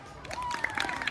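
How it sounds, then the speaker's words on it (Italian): Applause from a crowd at a school athletics event for a lower secondary student, steady dense clapping with scattered cheering and a thin whistle-like tone running through it. "applauso a Florea"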